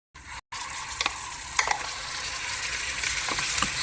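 A tempering of spices for red sorrel leaf pickle crackles and fries in hot oil, a continuous close hiss with a few sharp pops and spoon clicks.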